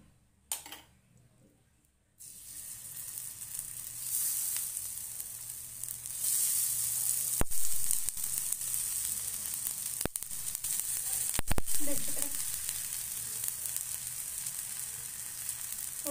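Eggplant (brinjal) pieces fry in a pan, a loud continuous sizzle and hiss that starts after a brief quiet moment and carries on steadily, with a few clinks from the pan.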